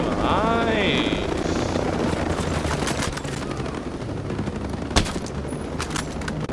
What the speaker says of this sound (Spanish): Helicóptero enemigo en camino.